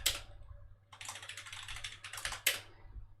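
A password is typed on a computer keyboard during a lecture, with quick, close, crisp key clicks in short irregular bursts and no talking.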